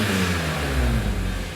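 A 2005 BMW E46 M3 with an aftermarket exhaust, a deep, loud engine rumble that swells as it revs, close by with no talking.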